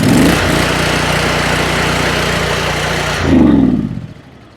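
An S-Line water jetter engine runs steady and loud, with a brief revving surge near the end before it cuts off and falls quiet.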